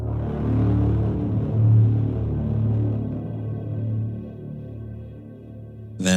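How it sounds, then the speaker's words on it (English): A growling Cyberhorn synth bass from Geico War Island gives a sinister sci-fi tone, heavy and low, sustaining loudly alone for several seconds before thinning out, with a brief bright burst at the very end. "then Geico War Island Cyberhorn bass, sinister sci-fi sound"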